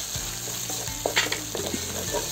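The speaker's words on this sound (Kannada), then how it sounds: "ಬೇಯಿಸ್ಕೊಂಡಿರೋ ಮಾಂಸ ಹಾಕ್ತಾ ಇದ್ದೀನಿ" Cooked mutton goes into a frying pan with curry leaves and chili powder, setting off a steady close sizzle with scraping stirs and a few clinks of a spoon against the pan.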